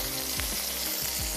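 Garlic frying in hot oil in a pan, a steady close sizzle with a few soft stirring scrapes, no voices.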